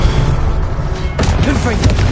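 In Hogwarts Legacy, the Incendio fire spell roars with a loud low rumble, then a whooshing burst flares midway while a voice speaks over it.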